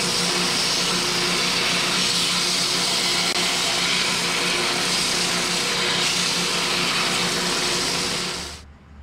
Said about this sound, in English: Just a minute on the belt sander here and this thing looks pretty good.